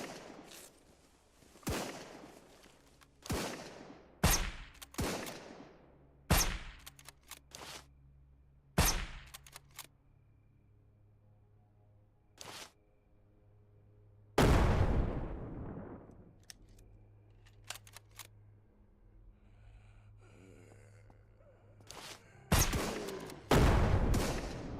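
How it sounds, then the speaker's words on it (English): Gunfire in the video game SurrounDead: sharp, loud single shots spaced irregularly, with a short burst near the end, over a low engine hum and quiet gaps. "What are you guys shooting at?"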